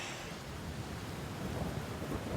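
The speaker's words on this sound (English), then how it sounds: "It's a stormy night here in the Highlands" A Highland thunderstorm on a stormy night: a steady, dense roar of heavy rain and rumbling thunder fills the whole stretch with no break.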